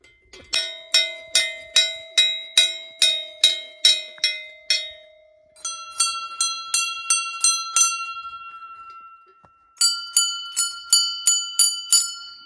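Small bells ring in quick repeated series at the main gate of the Himani Chamunda Mata temple, three bursts of bright, sharp strikes with ringing decay, fairly close and loud, with no talking.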